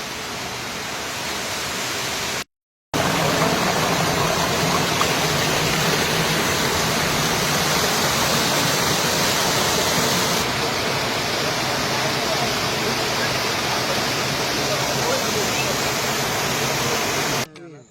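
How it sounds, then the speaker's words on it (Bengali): A waterfall of very cold water on the Parasnath hill pours in a loud, steady broadband rush with a brief break near the start, as it would sound from close by. "এই একটা ঝর্ণা রয়েছে এখানে, আর পানি এত ঠান্ডা"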